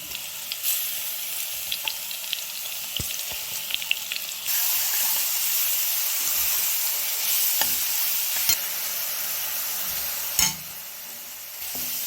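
Garlic and curry leaves sizzle and fry in a pan for a garlic pickle, a steady crackling hiss with occasional stirring clinks and scrapes, fairly quiet and with no voices.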